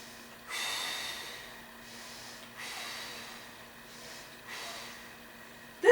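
Slow, steady breathing of a patient lying through a lower-back stretch, several soft drawn-out breaths in and out at a calm rhythm, close and quiet with no talking.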